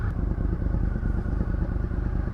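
A 2000 Honda VFR800 V4 motorcycle engine runs close and loud with a deep, even, throbbing idle pulse.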